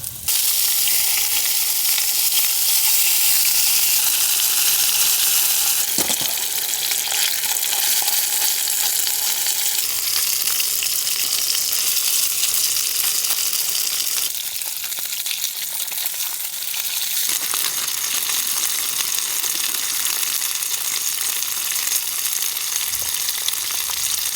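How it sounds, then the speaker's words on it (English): Burgers frying with cheese and buns set on top, cooking in a winter storm shelter tent: a loud, steady sizzle with constant crackle and occasional stirring scrapes, no talk. "Get those buns on top of the burgers with the cheese to soften them down a bit."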